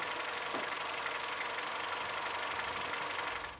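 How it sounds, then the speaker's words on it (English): Peugeot 207 GTI engine idling steadily with a smooth, even hum and no rattling, recorded close and continuous for a few seconds before fading slightly at the end. "during the idling, I didn't hear any like rattling noise. Like it sounds very healthy"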